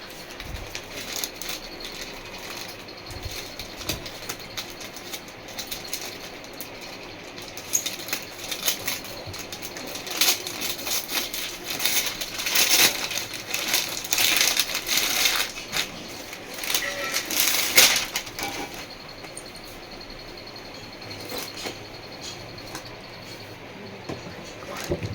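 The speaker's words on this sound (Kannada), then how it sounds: "ಸೊ ಅವ್ರ ಗಿಫ್ಟನ್ನು ನಾನು ಫಸ್ಟ್ ಓಪನ್ ಮಾಡ್ತಾ ಇದ್ದೀನಿ." A birthday gift package is opened by hand, with continuous crinkling, rustling and crushing of wrapping that swells in the middle and then settles, close and fairly quiet.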